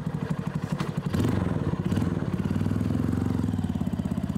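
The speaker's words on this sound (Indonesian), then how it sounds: "Karena dia pengennya suara knalpotnya itu yang paling sopan gitu" A standard custom motorcycle idles nearby through a quiet, mellow exhaust, its low throbbing pulse steady and even, with a slight rise in rumble partway through and no voices present.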